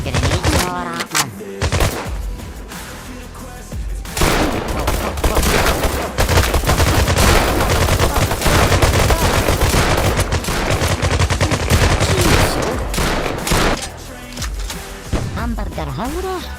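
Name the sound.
gunfire in a shooter video game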